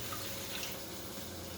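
Water, one and a half cups, poured into a cooking pot as a syrup base for a Ritz cracker apple pie, giving a steady continuous splashing trickle from close by with no talking.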